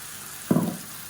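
Tomato paste hits a hot pan for sautéing, giving one short, close sizzle burst that rises sharply and fades within a fraction of a second over a quiet kitchen background.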